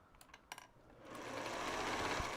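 A sewing machine stitches through a quilt seam made from fabric scraps, starting with a few sharp clicks and then speeding up into a loud, steady whirring hum.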